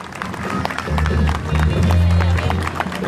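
Crowd clapping and cheering along a street parade for a May 25 civic event, a broad wash of applause under a man's loud announcement, with a brass band droning in the background.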